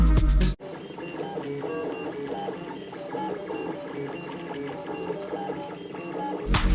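A 3D printer lays molten material onto a heated bed layer by layer, its stepper motors whirring and buzzing close up in a steady, shifting mechanical pattern, with nothing else heard over them.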